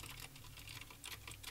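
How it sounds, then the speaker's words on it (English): Fast, steady typing on a keyboard with Cherry MX Blue switches, a quiet stream of crisp clicky keystrokes picked up through a Samson Q2U dynamic microphone over XLR, with no voices. "This is an audio test of the Samson Q2U dynamic microphone via XLR without a mic preamp while typing on Cherry MX Blue switches."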